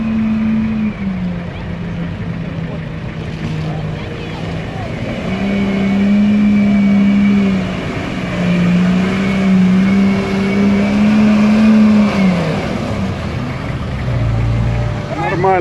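A GAZ-66 Shishiga–Dodge hybrid truck drives with a steady, loud engine drone that rises and falls slightly as it moves, with people talking over it.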